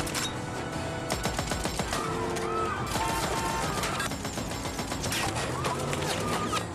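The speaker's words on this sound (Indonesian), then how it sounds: "Raja Long menembaki mobil yang mengejarnya" Gunfire erupts during a film car chase as a man shoots at a pursuing car, rapid cracking shots layered over a dense, loud action soundtrack with music and crashing impacts running continuously.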